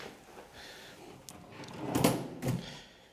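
A lined pull-out drawer in a hotel room slides open with a short rolling scrape and a soft bump, quiet and close, in an otherwise still room.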